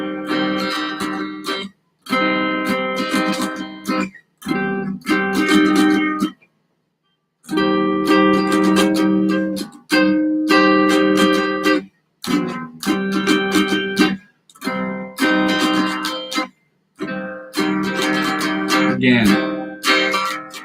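Electric guitar strums a sequence of inside chord voicings, each chord ringing clearly for a second or two before being cut off by short silences, played close and alone.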